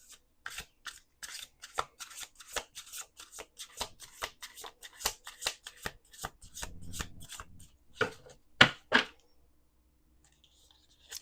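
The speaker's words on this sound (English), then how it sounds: "1 more shuffle." Tarot cards being shuffled, soft quick riffling and slapping bursts in an irregular rhythm, close and quiet, ending with a couple of louder snaps before silence.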